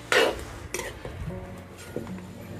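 A spoon scrapes and clinks against a pot while Malvani village chicken curry is stirred with ground masala over a wood-fired stove, with a few sharp knocks among softer, wet scraping.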